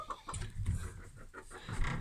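Chickens in a coop give a few soft, low clucks and brief squawks, close but faint, over a quiet background with no talking.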